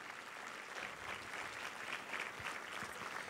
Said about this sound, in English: and give him the biggest round of applause